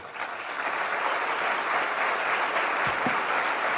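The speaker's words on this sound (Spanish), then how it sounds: "Denle un aplauso al Señor." Church congregation clapping steadily for several seconds after a sermon call, a dense, even wash of many hands, loud and continuous with no talk over it.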